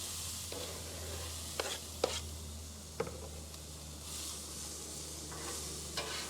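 Onions and mixed vegetables stir-fried in a pan, giving a faint, low sizzle broken by a few soft scrapes and knocks of stirring, with no talking.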